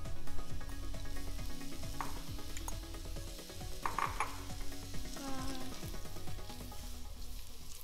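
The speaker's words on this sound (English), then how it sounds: "I'm gonna put a little bit of oil in the pan. Maybe that's come off there. Add our mushrooms in." Mushrooms frying in a little oil in a pan, a steady soft sizzle with occasional utensil scrapes and clinks as they are stirred, close and fairly quiet.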